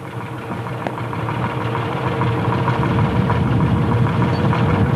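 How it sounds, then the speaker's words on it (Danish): A restored vintage tractor engine runs steadily at a tractor rally in Brørup, Denmark, in 1989. It gives a continuous loud, rough low rumble with a knocking texture, heard alone without talk. "det er motor nummer 20, Henrik Højer."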